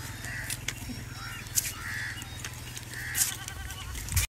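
A goat bleats several times while perched high up a tree to feed in a village, its calls fairly close over steady outdoor background noise with a few sharp knocks.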